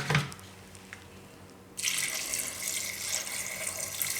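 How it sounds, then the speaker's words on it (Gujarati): Water pours steadily into a pressure cooker holding soaked chickpeas for a yogurt chhole dish, starting abruptly partway through as a continuous bright rush and running to the end with no talk. "તો હવે આમાં પાણી નાખીશું."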